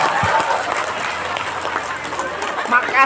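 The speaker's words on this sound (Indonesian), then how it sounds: "Tepuk tangan buat semua." Audience applause, a dense, steady crowd clapping, loud and continuous throughout, with voices mixed in.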